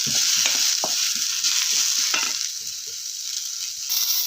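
Onion roasting in oil in a pan for chicken rassa, a steady close sizzle with scattered stirring scrapes and no talking.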